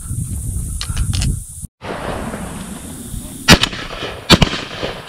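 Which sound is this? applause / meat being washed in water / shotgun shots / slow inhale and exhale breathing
shotgun shots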